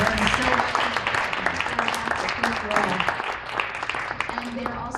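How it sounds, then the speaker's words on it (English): Audience applause for a sports philanthropy panel on storytelling fills the room as steady, dense clapping that runs throughout, with some voices mixed in. "please give a round of applause for this panel"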